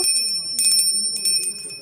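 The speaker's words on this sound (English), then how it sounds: "It's a little bell." A small keepsake bell from a grandmother's childhood house in Italy rings in a few quick, bright tinkling strikes close by, with a faint voice in the background.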